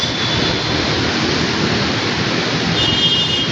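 Heavy rain pours down in a steady, dense hiss that holds evenly throughout, loud and close, with no voices.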